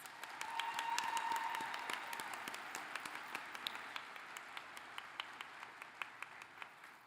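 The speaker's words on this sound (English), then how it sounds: "Could we give them all a round of applause, please?" Graduation audience at a law school ceremony applauds professors, a full wash of clapping that thins out into scattered individual claps as it fades.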